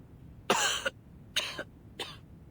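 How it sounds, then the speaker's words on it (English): Three harsh coughs in a row from a character in Reverse 1999, each short and raspy, with a brief pause between them and a spluttering edge. "And now I cough and splutter just like it does."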